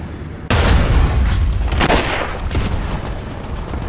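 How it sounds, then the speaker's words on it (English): An M4A5 Ram II tank in War Thunder fires its gun at a rock: one sudden loud blast, then a long rumbling roar of engine and debris with a second thump soon after. "I don't know why I decided to shoot the rock"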